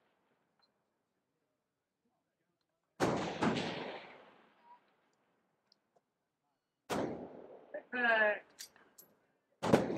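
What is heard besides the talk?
rifle gunshots at a precision rifle range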